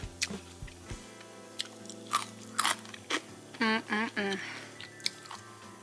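Crisp bites and chewing of crispy fried tofu, close and fairly quiet, with several separate crunches early on followed by a few longer squishy chewing bursts.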